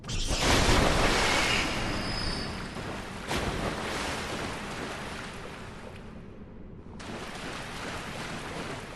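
Water splashes in the video game Bloodborne: The Old Hunters. A loud, rushing wash starts strong and gradually eases, briefly drops out near the end, then resumes, with no voices.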